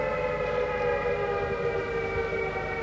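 Alarm siren blaring a steady sustained wail at the Alerta Roja protest in Zaragoza, continuous and moderately loud across the outdoor space, with no voices over it.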